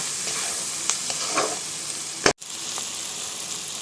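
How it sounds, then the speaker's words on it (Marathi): Onions stirred and fried briefly in oil for onion chutney, a close, steady sizzle with soft scrapes of the spoon and one sharp knock against the pan. "ह्याला एक मिनटं फक्त हलवायचं आहे तेल टाकल्यानंतर जास्त भाजू द्यायचा नाही"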